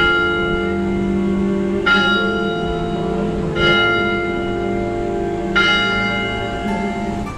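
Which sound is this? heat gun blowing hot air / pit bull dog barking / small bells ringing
small bells ringing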